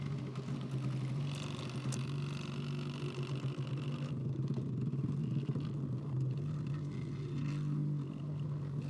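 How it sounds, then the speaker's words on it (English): Evolution electric wacker plate compacting garden soil for a path, giving a continuous loud, rumbling vibration that holds steady throughout at close range. "It's compacting the soil very nicely, creating a nice, even and solid layer."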